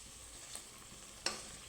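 Ash gourd pieces fry quietly in a pan, giving a soft, steady sizzle with a couple of brief sharp clicks, one louder near the end.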